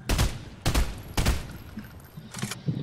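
Gunfire in the Fortnite video game: three loud, sharp shots spaced about half a second apart, then a fainter fourth shot after a pause, close and punchy.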